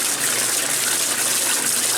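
A 1996 Maytag Dependable Care Plus washing machine running a spin rinse, giving a steady, loud rushing wash of water spray with no letup.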